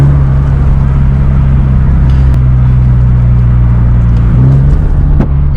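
A Genesis Coupe 2.0T with a Tomei Extreme titanium exhaust idles and revs steadily, a loud, close, continuous droning rumble with a slight rise near the end.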